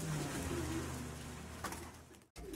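Racing pigeons coo in soft, low, repeated calls while they bathe, with a steady background hiss and a brief sharp break near the end.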